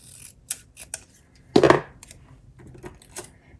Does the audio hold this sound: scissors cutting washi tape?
yes